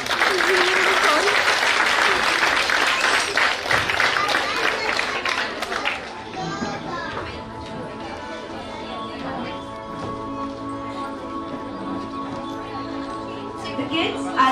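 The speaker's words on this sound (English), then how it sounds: "Please give them a round of applause." Audience applause at a kids' yoga performance during a school annual fest, loud dense clapping for about six seconds that then gives way to music and talk in the hall.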